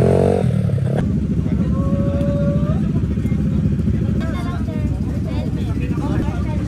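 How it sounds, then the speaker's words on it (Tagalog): Low-displacement motor scooters idle and rev nearby in a busy outdoor crowd at a large riding group breakfast ride, with people talking over the steady rumble. "Ito yung mga motor."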